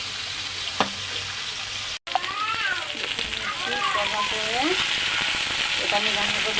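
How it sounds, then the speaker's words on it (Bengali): Food fries in hot oil with a dense, continuous sizzle and crackle that sounds close, while a voice talks over it through much of the stretch. "এগুলো আমি এখন ভেজে নেব।"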